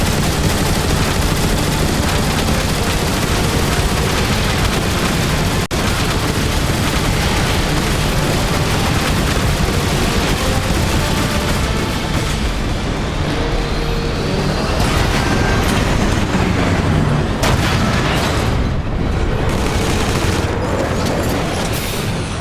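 Continuous heavy gunfire and booming blasts aimed at a Decepticon warship in the Transformers War for Cybertron video game, loud and dense throughout with rapid bursts and occasional explosions.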